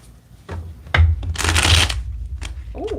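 Tarot cards shuffled by hand in a few quick riffling bursts, the loudest rush in the middle, close and crisp with no talking.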